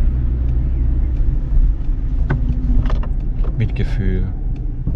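Small engine of a Fiat Punto moped car restricted to 25 km/h drones steadily in a low, constant cabin rumble while driving, with people talking over it throughout.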